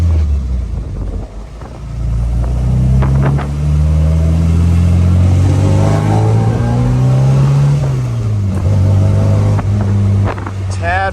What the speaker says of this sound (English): revving it with the clutch out so that I can match the gears